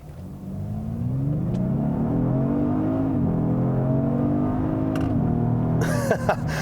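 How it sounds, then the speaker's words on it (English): A 2018 Genesis G80 Sport, rear-drive, floored from a standstill: loud, close engine revving up through rising pitch sweeps with a brief gear-change dip, ending in a short clatter. "even when you floor it from a standstill"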